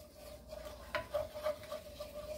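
Red seasoning is stirred into a beef enchilada casserole mixture, soft scraping and rubbing strokes with faint sizzling, fairly quiet and close, with a steady hum underneath.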